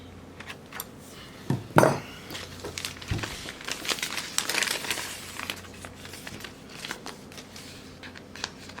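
Close, crisp paper rustling and snipping, with a couple of sharper cuts early on and lighter crinkling throughout; no talking.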